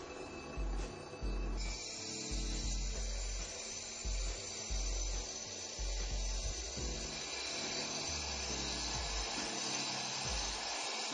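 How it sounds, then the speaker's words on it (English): Tuongex 7 concrete floor grinder running, a loud sustained motor drone with a whining high band and shifting low rumble as the machine works the surface, no talk. "To operate the machine, you lift up on the machine slightly, turn your on, and then you start your grinding process."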